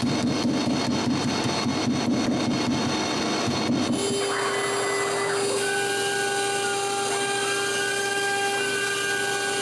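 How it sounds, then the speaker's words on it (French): CNC router fitted with a 1 mm bit cutting plywood taped onto melamine, a loud steady whining grind with pulsing cutting strokes, then a shift to a smoother high whine with tonal motor hum. "les découpes sont faites avec une fraise d'1 mm"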